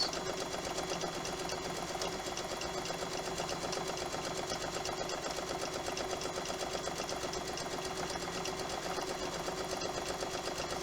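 A sewing machine stitches a straight seam on a cape, its needle running in a fast, even, continuous drone for the whole stretch without pause, no voices over it.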